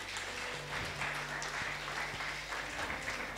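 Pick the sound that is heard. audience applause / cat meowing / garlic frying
audience applause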